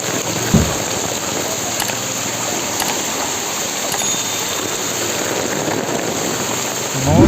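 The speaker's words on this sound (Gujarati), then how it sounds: "બહુ જ ધોધમાર વરસાદ આવી રહ્યો છે." A heavy monsoon downpour in Junagadh, near the main Swaminarayan temple, pours down as a loud, continuous roar of rain hitting surfaces, with a few brief knocks and no talk.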